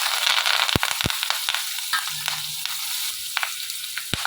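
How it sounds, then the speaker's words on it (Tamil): Mustard seeds, cumin and curry leaves hit hot oil with a constant close sizzle, broken by sharp, scattered pops and crackles as the seeds burst, with no voices. "இப்போ வந்து நம்ம கடுகு போட்டுக்கலாம், சீரக கருவேப்பிலை சேர்த்துக்கலாம்"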